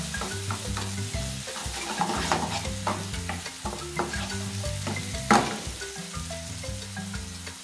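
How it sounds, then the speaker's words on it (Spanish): Pepper and cumin being stirred in a frying pan, a steady close sizzle broken by repeated scraping strokes of a spoon, with one sharper knock partway through. "Seguidamente removemos muy bien para que se integren estos condimentos."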